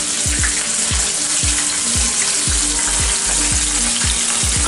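Chicken pieces sizzle loudly in hot oil for fried chicken, with steady crackling broken by repeated low clunks and scrapes as the pieces are turned over in the pan; no one speaks.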